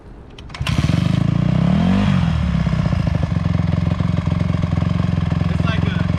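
Small dirt bike engine starting up, then a loud, close, buzzing idle with a brief rev that rises and falls before settling into a steady rattling drone.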